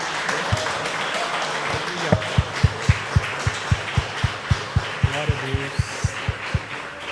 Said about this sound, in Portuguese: Dê uma salva de palmas para o Senhor Jesus Cristo.